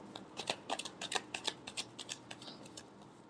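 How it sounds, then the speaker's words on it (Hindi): Tarot cards are shuffled up close in a rapid run of soft riffling flicks and taps, fairly quiet, with no one speaking. "Last shuffle."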